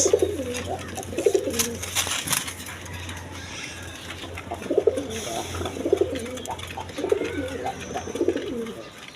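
A pair of red Gorra pigeons in breeding mood coo repeatedly in close, rhythmic bursts, with a steady low hum and scattered clatter in the background.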